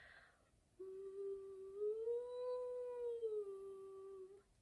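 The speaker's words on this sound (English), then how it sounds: "But literally, you just sing through the straw." A single hummed tone sung through a straw slides up a small interval, holds, then glides back down; muffled and fairly quiet, with no talking.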